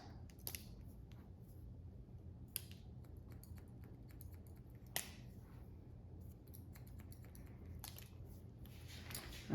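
Scissors point cutting hair during a pixie haircut, a quiet series of crisp, irregular snips heard up close against a soft background, with no talking.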